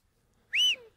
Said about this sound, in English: For that, you need to be able to whistle through your fingers.